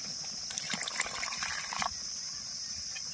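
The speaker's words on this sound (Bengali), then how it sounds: "এবার আমি দিয়ে দেব অল্প পরিমাণে জল," A small amount of water is poured into a simmering curry of potol in yogurt, a short trickling splash lasting about a second and a half over a steady background hum, then fading out.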